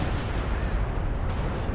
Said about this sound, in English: Adds more explosions to the fire.